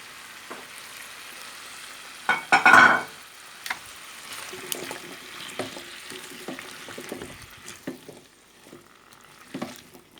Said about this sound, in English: So now I've got all the vegetables in it with the meat. I'm just going to let it toss around a little bit.